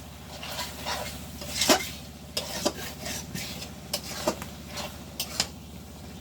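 Ash gourd greens curry with dried fish cooks in a pot while a spoon stirs and scrapes, giving several distinct clinks over a low, steady sizzle.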